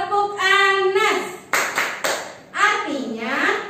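Children in a classroom clap their hands in short rhythmic bursts between sung and chanted lines, with their voices dominating and the claps sharp and close.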